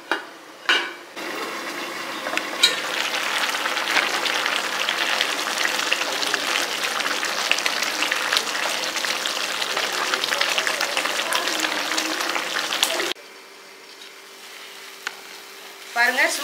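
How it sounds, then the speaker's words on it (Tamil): Millet cooks in a covered pot over a low flame, giving a steady, even bubbling and simmering hiss that runs for about thirteen seconds before dropping to a quieter low hum, with a few faint clinks of a lid or utensil. "பாருங்கள், நல்லா கொதிச்சுக்கிட்டு இருக்கு."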